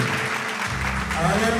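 Congregation clapping during a Sunday church service, a steady wash of applause and voices filling the room throughout with a rise in cheering toward the end.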